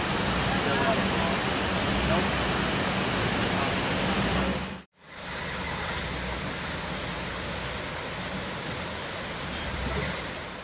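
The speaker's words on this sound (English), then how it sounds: "this is kind of a cool little waterfall worth taking a look at" A small waterfall beside Clipper Mine road, a popular 4x4 route, pours in a steady broadband rush, close and loud, with a brief dropout midway before the continuous roar resumes.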